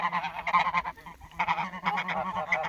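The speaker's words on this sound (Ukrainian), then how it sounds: "Це гуски." Domestic geese kept with chickens in a farmyard coop honk in a loud, close cluster, overlapping nasal calls coming in two bursts with a short lull between them.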